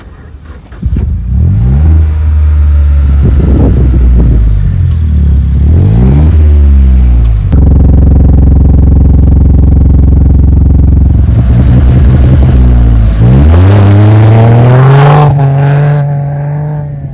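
A Maruti Suzuki Baleno RS fitted with an HKS end can and no catalytic converters, heard from inside as the engine revs up through several gears with loud rising drones, shift breaks and a sustained high-rpm roar.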